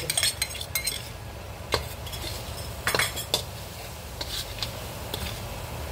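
Seafood being stirred and mixed with Cajun powder and a little chili, a utensil scraping and clinking against a pot in scattered bursts over a steady low background, with no talking.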